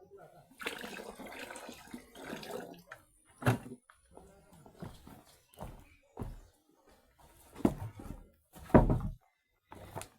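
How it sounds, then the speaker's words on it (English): Water splashing and spilling from an old, badly leaking jerrycan while water is fetched in a Kenyan village, heard as irregular splashes and thunks with pauses between them, close by and mixed with a voice talking. "This jerrycan is really old. It's leaking a lot of water."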